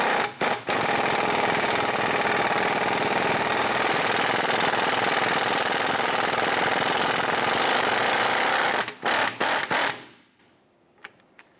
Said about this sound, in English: I'm going to use a 17mm socket with our impact gun.